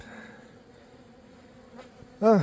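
Honey bees buzz in a steady, close drone over an open hive frame holding honey, a dense sustained hum that swells sharply louder right at the end.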